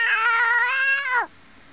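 A domestic house cat in distress gives one drawn-out, wailing cry that holds steady for about a second before sliding down in pitch and cutting off sharply.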